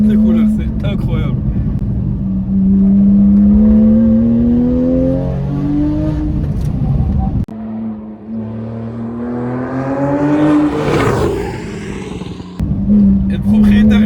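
A Porsche 911 race car nicknamed 'Pegasus' drives on a circuit, its engine droning and climbing through revs in strong rising sweeps, near and loud, with a sharp cut between passages as it shifts and pulls away.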